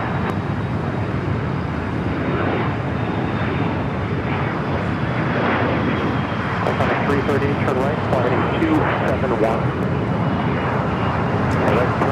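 An American Airlines jet takes off from runway 25 right at Los Angeles LAX with a loud, steady engine roar throughout, while air traffic radio talk runs over it.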